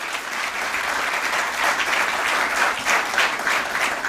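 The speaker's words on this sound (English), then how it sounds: "A big round of applause for you guys." Audience applause at a stock exchange listing ceremony for TBO Tek Limited, a dense, steady clapping that stays loud and continuous across the whole stretch, with faint crowd murmur beneath.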